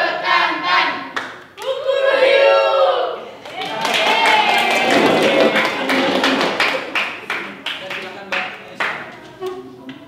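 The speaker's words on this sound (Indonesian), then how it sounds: "Tepuk bekantan." A class performing the 'tepuk bekantan' clap routine, a group chanting together while clapping in a rhythmic pattern of sharp, close claps.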